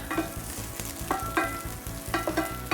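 Garlic frying in oil in a pan for vegetarian minestrone soup is stirred with a utensil, giving a steady close sizzle with repeated scraping strokes and light clinks and no voices.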